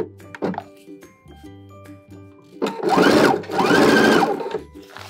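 A sewing machine edge stitching close along a jacket zipper, with scattered soft clicks and thunks at first, then two loud sustained bursts of rapid mechanical stitching up close.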